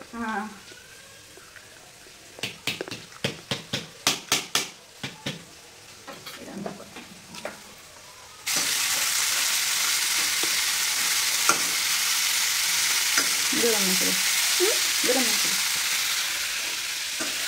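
Sprouts roasting in a pan as they are stirred: a run of quick clacking spoon strokes and faint voices, then a loud continuous sizzle with occasional scrapes and a voice heard briefly over it.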